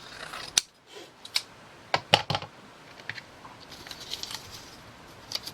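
Scissors cutting through paper at a craft table, giving a few sharp snips spaced out, then a quick cluster of cuts and lighter rustling, fairly close and quiet with no talking.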